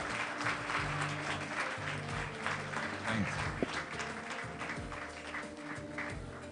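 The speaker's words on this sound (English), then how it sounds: "Some more claps, please, ladies and gentlemen," Alumni-meet audience clapping in a hall, a steady patter of many hands with a low hum and faint voices underneath.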